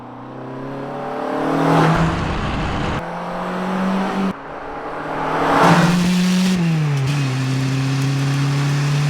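A Peugeot 205 Rallye runs a fast lap, its engine revving hard through repeated climbs and sharp gear-change drops, with a brief tire squeal. It is loud and close and has no voices.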